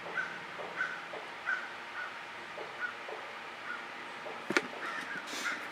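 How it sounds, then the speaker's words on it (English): Crows caw outdoors in a steady, repeated series of calls at moderate distance over a constant background hiss, with one sharp knock near the end. "The birds are they're having a caucus, for sure."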